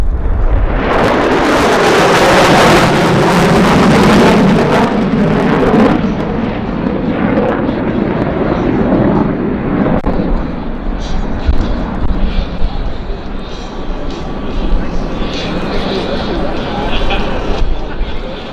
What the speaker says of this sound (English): This is your B-1 Lancer